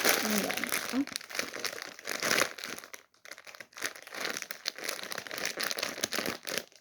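Plastic packaging around a Stitch toy is torn open and crinkled up close, in loud, continuous crackling bursts with a brief lull near three seconds, while someone talks over parts of it.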